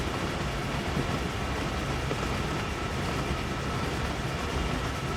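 Passenger train running on the Peninsula Corridor line in Train Sim World 3, a steady broadband rumble and rolling hiss with no pauses, fairly constant in level and heard alone.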